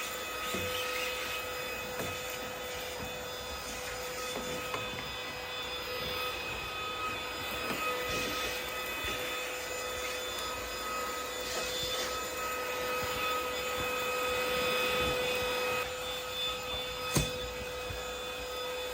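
A household vacuum cleaner drones continuously nearby with a steady whining motor tone, punctuated by faint clicks and knocks as it moves across the floor.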